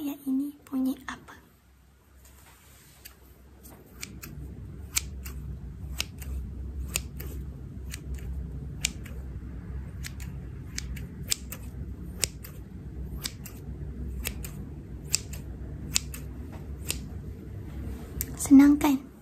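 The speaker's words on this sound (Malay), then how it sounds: "bunyi gunting" Scissors snip close to the microphone in a Malay ASMR guessing game, with sharp, evenly spaced crisp cuts repeating steadily and soft whispered speech at the start and end.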